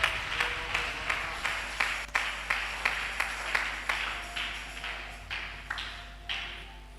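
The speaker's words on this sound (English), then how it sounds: "You clap hand to what I just said" A church congregation claps hands in a steady, evenly spaced rhythm, each sharp clap ringing slightly in the hall, moderately loud with no talking over it.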